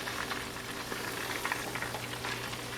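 Jalapeno bacon duck wraps fry in a pan with a soft, steady bubbling sizzle and scattered small pops, fairly quiet and close, with no voices.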